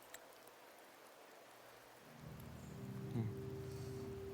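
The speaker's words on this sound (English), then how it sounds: "The rains in Septimont never seem eager to leave this season" Rain falls in Septimont in the Wuthering Waves game, a soft, faint hiss that thickens partway through, with a low tonal hum joining underneath.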